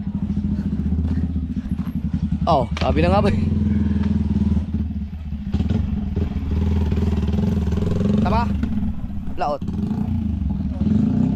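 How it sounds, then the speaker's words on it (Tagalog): A motorcycle engine idles steadily and close by while people talk over it. A low rumble runs underneath the whole stretch. "Alam mo na alam ko yung tunog ng motor"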